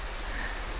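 Rain falls steadily at an outdoor resort pool in Coorg, a soft even hiss of drops with no voices over it.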